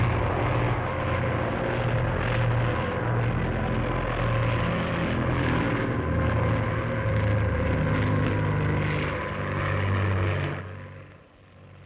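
A Stampe biplane flown in aerobatics overhead: a steady, loud propeller engine drone holds throughout, then fades and drops away near the end.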